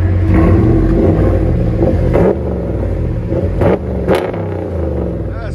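RAM 1500 pickup with a 5.7L HEMI V8 and loud aftermarket exhaust, a deep rumbling close rev that drops back to a throbbing idle, with sharp throttle blips following.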